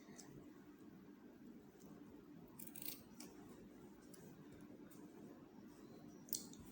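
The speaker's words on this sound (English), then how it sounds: "Take your scissors and trim it gently, please." Faint, sparse snips of scissors trimming net fabric over a steady low background hum, with a few soft clicks scattered through.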